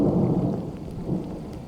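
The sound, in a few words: thunder from a storm moving into the distance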